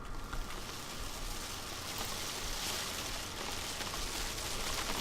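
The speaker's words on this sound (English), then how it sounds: "it sounds like a hailstorm." Dense, steady pattering like hail or heavy rain drumming on surfaces, a continuous hiss with no voices; a video game hailstorm.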